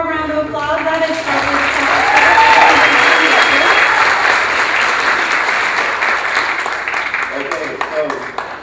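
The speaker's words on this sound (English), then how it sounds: "Let's give them one more round of applause." Loud, sustained applause from a pageant audience at a Mrs Oregon America stage competition, swelling to a peak and then easing off gradually, with a voice speaking briefly over the start.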